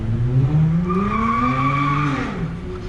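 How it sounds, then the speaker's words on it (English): A car peels out on a street in Kailua, Oahu, its tires squealing loudly in a rising and falling screech over a revving engine for about three seconds, close by with no talk. "Ooh, he peeled out"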